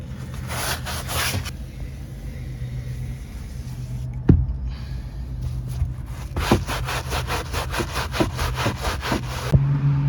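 Close, rhythmic back-and-forth scrubbing of a hand brush on Honda Civic carpet, a quick run of strokes, a pause with a single thump, then another steady series of strokes.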